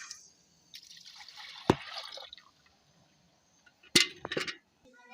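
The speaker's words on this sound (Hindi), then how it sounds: "इधर पड़ा हुआ है दूध, अब इसको डालते हैं इस देगची में" Milk is poured from a container into a cooking pot, a soft splashing stream lasting about a second and a half and marked by one sharp knock. A few quick metallic clinks follow, all fairly faint and with no talk.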